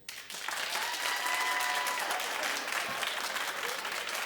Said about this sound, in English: Clap if you would never.